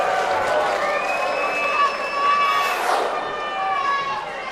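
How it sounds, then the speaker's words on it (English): A darts crowd at the 2011 World Championship semi-final cheers as Martin Adams wins a set, a steady roar of shouting and whistles with a commentator speaking over it. "But finally, the Wolfie fans go mad in the crowd"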